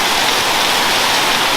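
Heavy rain falls in a steady, dense hiss, loud and uniform throughout the short stretch with no breaks or voices.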